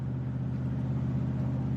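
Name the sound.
pickup truck engine while driving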